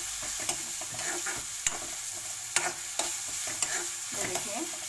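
Chicken pieces for Chicken Manchurian fry in hot oil with a steady close sizzle, while a spoon or spatula scrapes and taps the pan in regular strokes about once a second. No one speaks.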